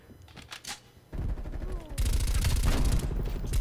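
Rapid automatic fire from an MP5 Widowmaker submachine gun in Black Ops Cold War, a fast, loud, steady rattle of shots that swells and continues through the end, preceded by scattered game sounds and brief quieter action.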